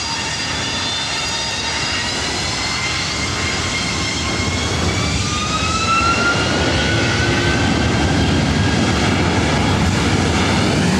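An Alaska Airlines jet takes off from runway 24 right at LAX, a loud, sustained engine roar with a rising whine that swells steadily as the plane accelerates.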